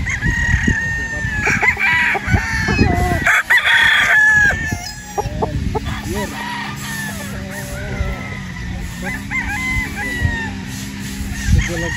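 Gamefowl roosters on a farm crow loudly and repeatedly, several overlapping calls with clucking hens in between, close by and busy throughout.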